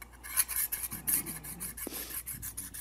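Router bit rubbed flat on a diamond sharpening plate gives faint, gritty rasping strokes in a short irregular rhythm, quiet and close, with a small knock partway through.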